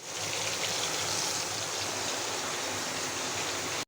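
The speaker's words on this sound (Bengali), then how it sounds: "এই যে পুঁটি মাছ ফ্রাই করছি" Puti fish frying in a pan, a steady, dense sizzle that hisses continuously and fairly loudly throughout, cutting off abruptly at the very end.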